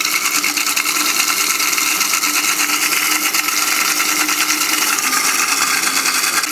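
A blender runs steadily on its slow stir setting, blending warm water for a creamy Caesar dressing, a continuous even whir with a rattling buzz that holds at one level throughout.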